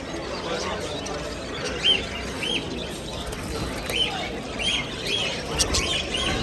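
Goldfinches at an exotic animal market give repeated short, bright chirps and twitters over a low murmur of background voices and market noise.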